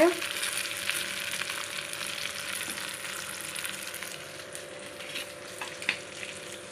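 Fish pakoda pieces frying in hot oil, a steady dense sizzle that holds for the whole stretch at an even, close level, with a few small pops and crackles near the end.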